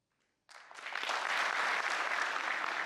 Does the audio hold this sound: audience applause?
yes